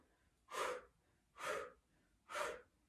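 Three forceful, evenly spaced breathy exhales during a yoga HIIT core exercise, close and clear, each about half a second long, with near silence between.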